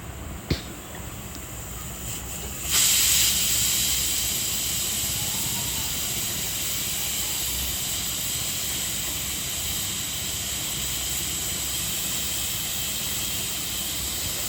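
A pressure cooker boiling potatoes lets out a loud, steady steam whistle that rises abruptly after a brief click and then hisses continuously for many seconds, close up with no talking.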